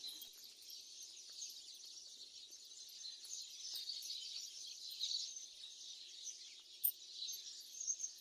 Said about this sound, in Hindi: तो चलिए मैं आपको सुनाती हूँ चिड़ियों की चहचहाने की आवाज़।